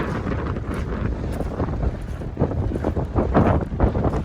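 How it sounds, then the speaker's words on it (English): Strong wind by the sea in rural Victoria, Australia, buffets the microphone with a constant loud roar and gusting rumble, no voices. "Very windy."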